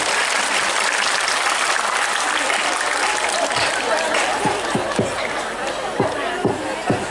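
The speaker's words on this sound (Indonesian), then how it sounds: "Tepuk tangan dulu." An audience at a lively Islamic sermon gathering in Kebonsari, Madiun, breaks into steady applause mixed with crowd chatter, with a few sharp claps standing out near the end.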